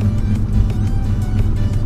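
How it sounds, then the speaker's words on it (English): A BMW and a Corvette idling and revving to show off, heard as a steady, loud, low engine rumble close by with no talking. "We got a Beamer and a Corvette trying to show off."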